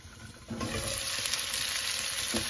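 Onions sautéing in a pan for a grandma-style sambar, a steady close sizzle that jumps louder after a half-second start, with light stirring scrapes and no voices.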